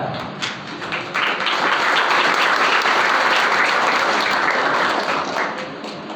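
At a school's annual exam-results prize distribution ceremony, a hall audience breaks into loud, dense applause that builds quickly and holds steady for several seconds before easing off.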